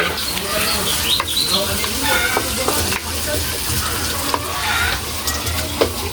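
Ginger and tomato sauté in a pan for ginisang monggo: a soft continuous sizzle with scattered stirring scrapes and clicks, moderately quiet and close.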